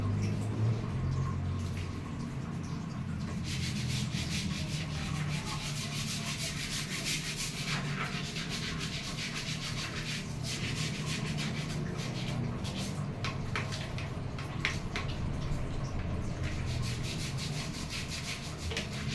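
A rusty toilet bowl is scrubbed in a bathroom with continuous, fairly quiet, rhythmic rubbing strokes, heard up close throughout.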